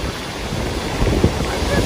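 Sea wind blowing at a beach: a dense, steady roar of gusting air buffeting the microphone, with surf-like rushing underneath and no clear voices.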